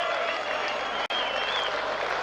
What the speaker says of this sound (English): The fans are standing up here to clap off their team.